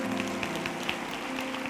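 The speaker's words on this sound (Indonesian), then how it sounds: "Kasih tepuk tangan untuk Tuhan Yesus" A church congregation applauds, with many hands clapping in a steady, moderately faint wash of sound that carries evenly through the hall.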